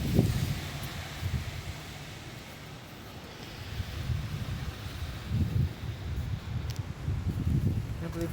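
Strong wind gusts across an open outdoor stadium on a blustery day, a steady rushing roar with buffeting rumbles against the microphone that swell and ease throughout.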